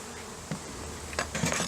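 Low, steady buzzing of many honeybees at a hive, with a few louder bursts as bees pass close, no voices present.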